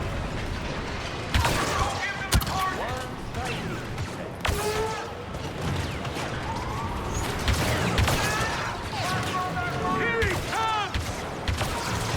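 Blaster fire and explosive game effects from the Star Wars Battlefront 2 campaign, with repeated sharp shots and booms over a dense, busy battle soundscape alongside character voices.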